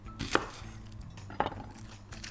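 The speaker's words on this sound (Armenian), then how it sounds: "Ամենեն առաջ սոխերնից կեղվենք, կտրատենք, մանր կկտրատենք" Two crisp knife chops through onion on a board, spaced about a second apart, close and fairly clear over a quiet kitchen background.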